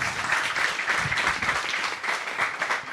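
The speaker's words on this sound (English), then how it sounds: "please clap" An audience at a panel event applauds, a close, continuous patter of many hands clapping at steady loudness with no voices over it.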